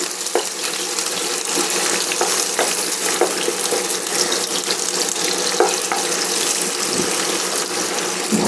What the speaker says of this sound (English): Get our onions sauteing up.